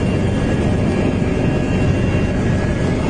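A Malaysian firefighting aircraft scoops water to fight a forest fire, a steady, loud, close engine roar with a broad rushing texture that holds without pause.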